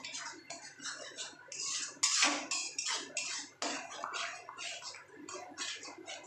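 A utensil scrapes and clinks repeatedly in a cooking pan as gravy thickened with gram flour is stirred, a close, uneven series of metallic taps and scrapes with no talk.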